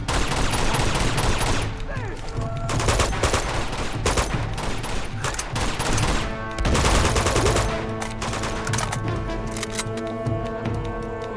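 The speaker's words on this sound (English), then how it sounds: "What the fuck is she shooting at, dude?" Heavy gunfire in Uncharted 2, dense bursts of automatic fire and sharp shots crackling nonstop, loud and close, with a brief lull midway before more rapid volleys.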